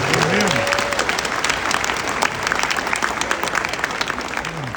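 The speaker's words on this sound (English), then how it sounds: "A lot of applause here for you." Audience at a fraud-fighting summit in Las Vegas gives sustained applause, a thick, even roar of clapping through nearly five seconds, with faint whoops rising briefly over it.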